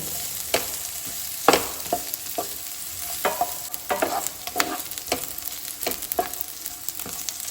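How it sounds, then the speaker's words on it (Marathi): Onion and green chili fry gently over a low gas flame, a soft continuous sizzle broken by frequent scraping stirs of a spatula, no voices. "कांदो आनी ग्रीन चिली जी आसा पळय न्हू ती आमकां बरो फ्राय करून घेवपाक जाय."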